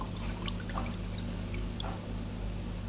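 Water pours out of a phalaenopsis orchid pot during winter watering, a steady close splashing trickle that runs throughout with small drips on top.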